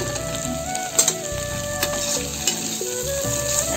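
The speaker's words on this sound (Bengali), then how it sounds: "চিচিঙ্গা ভাজা হয়ে গেছে" Snake gourd and egg frying while being stirred in a pan, steady sizzle with several quick scraping stir strokes, with music playing behind it.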